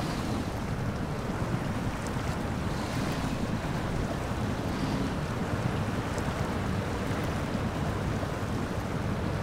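A truck fords a river in the SnowRunner video game, with steady, full rushing water noise and wind-like roar throughout, constant and unbroken with no voices.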